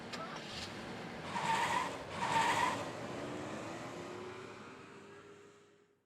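A car driving off in the Spirit Hunter: Death Mark video game, a moderate engine rumble with two brief tire-skid bursts early, then a steady fading drive-away with no talk.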